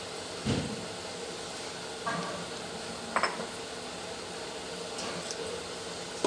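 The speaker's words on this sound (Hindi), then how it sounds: "देखिए घी में हमने बेसन डाल दिया, अभी हम भूनेंगे।" Gram flour (besan) being stirred and roasted in ghee for halwa, a faint steady sizzle under a few scattered spoon scrapes and clinks against the pan, close by with no talking.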